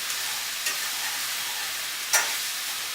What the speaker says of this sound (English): Cook these mushrooms down a little bit.